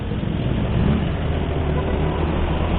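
A steady, rumbling motorbike engine hums under continuous road noise while the bike accelerates, with no break in the drone.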